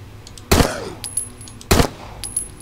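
Two loud, sharp gunshots from a video game, about a second apart, each a hard burst with a short ringing tail. Faint electronic tones sit between them and no one speaks.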